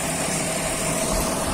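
A tractor engine labours steadily nearby while towing a tanker truck along a badly damaged road in Way Kanan, Lampung, a continuous loud drone with no break.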